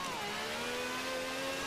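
A TVR Speed 12 engine in Forza Horizon 4 holds a steady high rev, its tone drifting slightly, loud and continuous with no talking over it.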